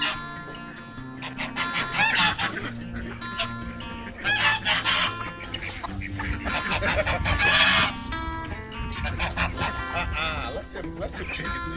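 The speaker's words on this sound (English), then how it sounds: "Let me feed these chickens real quick" Chickens and geese clucking, crowing and honking while being fed in a muscadine vineyard, with a dog barking and a person talking among the birds at close range.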